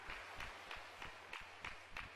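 Congregation applauding in a church service, a steady patter of many hands clapping with rhythmic bursts, fairly faint and distant, no talk over it.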